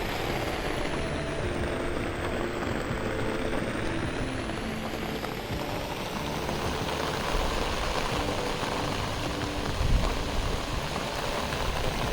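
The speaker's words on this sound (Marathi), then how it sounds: "पाऊस भरपूर पडायला लागलेले आहे" Heavy rain pours steadily over farm fields during paddy planting season, a dense, unbroken hiss that stays loud and even for the whole stretch with no voices.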